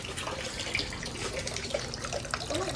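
Tap water running steadily into a sink while something is washed, a faint splashing stream with small drips and clinks, no talking.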